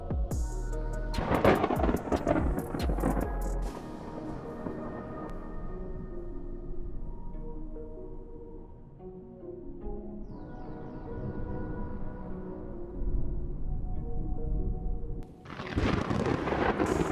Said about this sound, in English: These deafening thunderstorms are a harbinger of the terrible events about to unfold for this city.